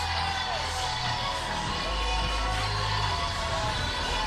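Crowd noise from spectators at the 2022 Chicago Pride Parade, a steady dense roar of cheering and voices filling the whole stretch with no single standout shout.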